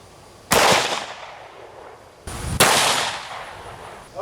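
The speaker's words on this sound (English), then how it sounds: "We're going to shoot it one more time" Two loud, close .44 Magnum pistol shots fired at body armor, each a sharp blast with a ringing decay, about two seconds apart, with no talking.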